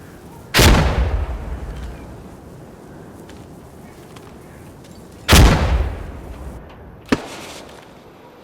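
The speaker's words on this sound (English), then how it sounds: "Watch out! Grenade!" Grenade explosions in the multiplayer shooter Insurgency Sandstorm: two heavy booming blasts with long rumbling decays, followed by a single sharp crack.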